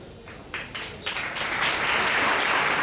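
An audience at a regional school arts showcase breaks into applause, scattered claps building quickly into steady, dense clapping from a crowd heard at moderate distance.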